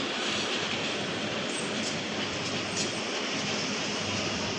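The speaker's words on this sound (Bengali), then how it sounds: "ট্রেনের শব্দ থাকে তাই রাতের ট্রেন" At night, a train passes close by, a dense continuous roar of rolling wagons with faint rhythmic clatter and wheel screech, loud and steady throughout without any voices.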